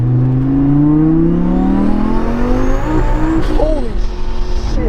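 A Heffner twin-turbo Lamborghini Gallardo with about 800 wheel horsepower accelerates hard, its engine note climbing loud and close through a long rising pull before a brief shift break and renewed roar.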